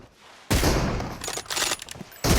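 Video game gunfire erupts in a loud burst of rapid automatic shots, stops briefly, then resumes in a sharp final volley, close and harsh.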